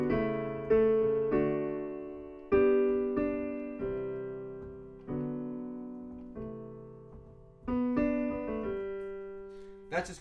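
Solo piano playing the intro of a song: a series of clear, struck chords and notes in a slow, steady rhythm, each decaying before the next, close and moderately soft.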